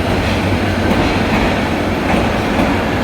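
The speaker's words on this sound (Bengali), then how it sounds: "রাত্রি বারোটা পঁচিশ মিনিটে ঢাকা থেকে ছেড়ে এসে রংপুর রেলওয়ে স্টেশনে ট্রেনটি প্রবেশ করছে" A passenger train from Dhaka rolls into Rangpur railway station at night, its loud, close, continuous rumble of wheels and carriages holding steady throughout with faint rail clatter.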